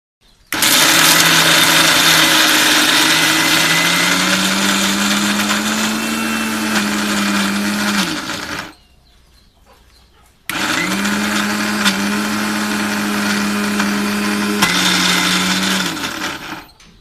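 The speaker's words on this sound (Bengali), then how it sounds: "আমরা এখন বুটের ডালটাকে ব্লেন্ডারের মাধ্যমে বেটে নেব" A blender grinds soaked chickpea dal into paste, a loud close whirring motor whine running for about eight seconds, cutting out for a two-second pause, then starting again for another stretch.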